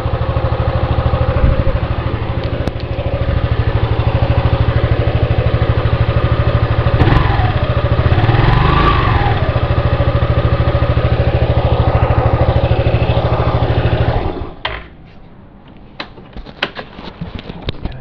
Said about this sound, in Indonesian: Jadi suara knalpot orinya kayak gini sih kurang lebih.